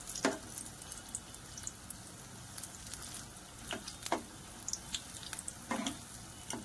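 Mirchi bajji fry quietly in oil, with a soft, steady bubbling sizzle and a few light clinks and knocks.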